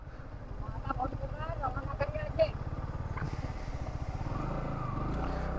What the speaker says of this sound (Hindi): देख लो फैन की आवाज आ रही